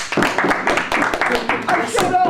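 A few guests on a small talk show clapping for themselves, a short ragged patter of claps and table slaps mixed with excited voices and a cheer.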